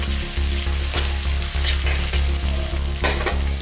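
Onions fry for street-style veg chow mein, a loud continuous sizzle broken by rhythmic scraping and tossing strokes of a spatula in the pan, with no talking.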